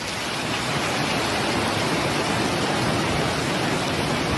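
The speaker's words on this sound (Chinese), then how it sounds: "大雨一直下，水也退不了" Heavy typhoon rain pours down during a storm that floods streets in Pingtung, Taiwan, a dense, loud, unbroken hiss of rainfall with no other sound over it.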